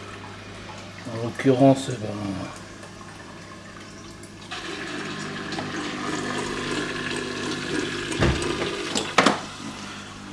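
Water is sucked out of a breeding tank during cleaning, giving a gurgling, slurping flow that rises and continues steadily, with a voice talking briefly over it.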